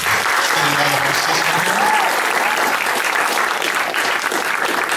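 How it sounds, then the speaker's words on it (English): A big round of applause from a university audience at Widener University fills the room, steady and dense throughout with a faint voice briefly audible underneath. "I'm going to give you a chance here in a moment to let loose one more big round of applause"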